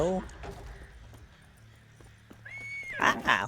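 A brief high horse whinny rises near the end over a quiet Witcher 3 game soundscape with scattered clicks and soft thuds.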